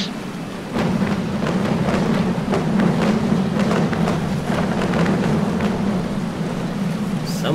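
Stormy weather in a naval sailing battle game: steady broadband rain-like roar with a low rumbling band running throughout, starting abruptly and holding at a loud, even level with no talk.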